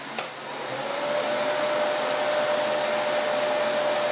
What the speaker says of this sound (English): Now let's turn the hairdryer on low.